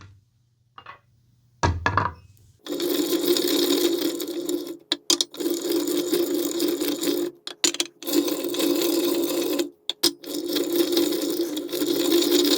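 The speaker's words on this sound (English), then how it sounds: "we're going to get our trusty Whiskey Wisdom wheel here and spin these up" A whiskey wisdom wheel spinning with a rapid ratcheting, clicking rattle after a few handling knocks, running loud and steady with brief pauses before continuing.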